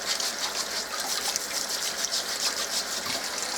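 Potatoes for tater tots are scrubbed under running tap water, a steady close gush and splash continuing unbroken for a few seconds with no voices.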